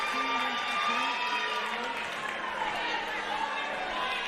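Dense, steady crowd chatter fills Spaulding Gym at a women's college volleyball match, with a voice talking over the continuous babble.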